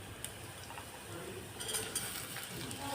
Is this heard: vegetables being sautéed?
yes